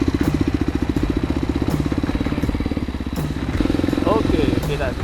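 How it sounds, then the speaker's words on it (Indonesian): Kawasaki KLX 230 motorcycle engine idling up close with a loud, evenly pulsing thump and a slight rise in level near the end, with brief voice-like sounds over it. "Kita starter dulu motornya. Oh, suaranya cukup gahar ya."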